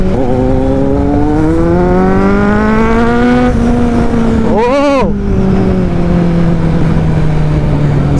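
Two Kawasaki Z900 motorcycles, one white and one black, ride together, with an engine whose pitch climbs steadily, briefly wavers, then settles, all under heavy, constant wind rush close by.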